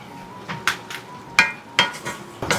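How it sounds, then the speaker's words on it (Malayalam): Spoon stirring a mixture in a pan while cooking steamed ripe jackfruit and plantain, a series of irregular metallic scrapes and clinks, about six distinct knocks, close and fairly loud with no talk. "അപ്പോൾ അതൊന്ന് മിക്സ് ചെയ്തെടുക്കുക."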